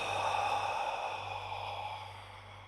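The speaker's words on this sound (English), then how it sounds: "I'll breathe in through the nose, easy. Breathe out again." A long, slow exhale through the mouth during a gentle mobility exercise, soft airy breath close to the microphone that fades gradually over about three seconds.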